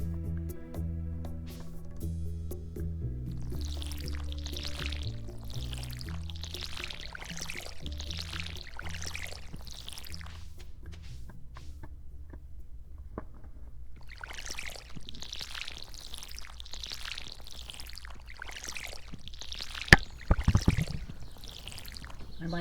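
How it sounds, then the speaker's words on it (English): A watering can splashes over crops on a farm in the video game Stardew Valley in a series of short, soft pouring whooshes, repeated in two rhythmic runs at moderate volume with no talking. "Make sure I water everything"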